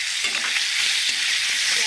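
Onions hit hot oil in a pan already fragrant with whole spices for a Bengali moong dal with rohu fish head, giving a steady, bright, continuous sizzle with light stirring scrapes underneath, close and loud, no voices.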